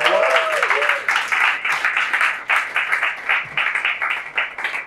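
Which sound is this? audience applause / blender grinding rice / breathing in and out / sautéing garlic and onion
audience applause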